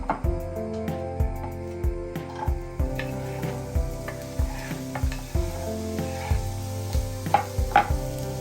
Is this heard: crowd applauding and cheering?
no